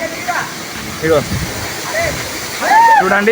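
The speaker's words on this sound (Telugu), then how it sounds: "ఇగో నీళ్ళు ఎలా పడుతుంది చూడండి" Steady broadband rush of water tumbling over rocks at a Rudrapur waterfall, close and continuous, partly under someone talking.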